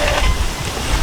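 A WLtoys 915 brushless RC boat runs at full throttle across water, a loud, continuous rush of spray, motor and wind noise filling the brief moment.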